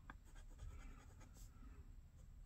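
A fountain pen with a broad, fat nib scratches across paper, close and quiet, with short repeated strokes in a steady rhythm.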